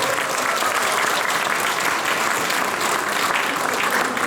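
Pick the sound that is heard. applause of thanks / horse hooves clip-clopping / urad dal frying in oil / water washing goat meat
applause of thanks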